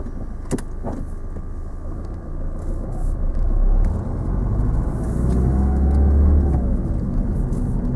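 A learner driver's car pulls away from the kerb during a driving lesson, a steady engine rumble building as it moves off, with a brief whirring and a sharp click early on, no talking.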